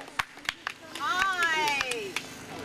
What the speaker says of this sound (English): We've got a bit of a cheer for this person coming in.